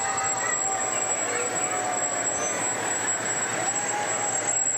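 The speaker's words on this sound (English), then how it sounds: "I think we have a long line of fire trucks coming through." A long line of Wadsworth Fire Department fire trucks rolls past in a parade, with no horns or sirens: a steady, heavy engine rumble and road noise that holds throughout, moderately close.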